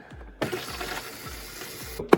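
Half a cup of water is poured into a measuring cup, a close, steady trickling pour lasting about a second and a half, ending with a small splash or clunk.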